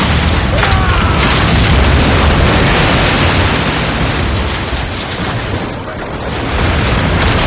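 Ship cannons fire during a naval battle in the video game Assassin's Creed Rogue, making a dense, continuous booming roar that fills the whole stretch and dips briefly near the end.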